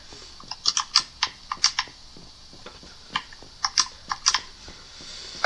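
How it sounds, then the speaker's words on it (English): Game controller buttons clicking during Minecraft Bedrock Edition play, a close, quiet run of sharp plastic clicks in irregular bursts, some tapped in quick doubles, with short gaps between. "I don't know if they'll be able to hear the controller clicking on my end"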